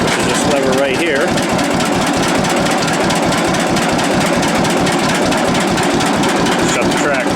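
A John Deere 70 tractor engine idles nearby with a steady, throbbing rumble, with a voice talking faintly over the continuous mechanical drone.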